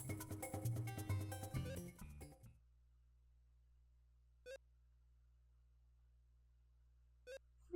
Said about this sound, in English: It's just like a 1-bit beep.